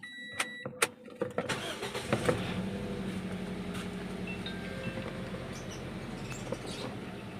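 A car engine cranks and starts after its ECU computer box is reset, a few clicks and a short crank burst giving way to a steady idle that runs on to the end, fairly close.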